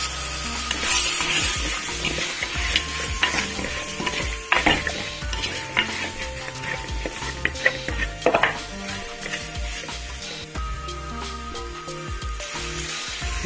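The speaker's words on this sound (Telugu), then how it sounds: "బాగా కలిపేద్దామండి। మునక్కాయలు వేసేద్దాము" A spoon stirs chicken and drumstick curry in a pan, with steady scraping and clattering against the metal and a few sharper knocks, close and fairly loud, with a light sizzle underneath and no talking.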